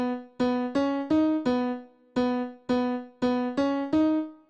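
Grand piano plays a simple vocal chop melody, with about ten clear struck notes in short phrases, repeating a low note and stepping upward, each ringing and decaying, close and alone without any voices.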